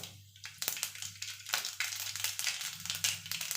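Mustard seeds spluttering in hot oil for an egg gravy, a busy run of sharp crackles and pops close by, irregular and dense, over a low steady hum.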